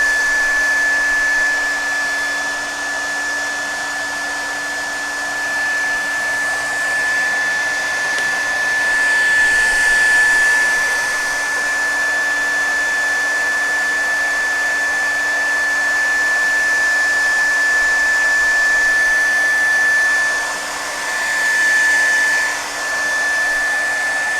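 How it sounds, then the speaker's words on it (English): A blow dryer runs steadily throughout, a constant whooshing roar with a high motor whine, close and loud with no talking. "Now, the blow dryer"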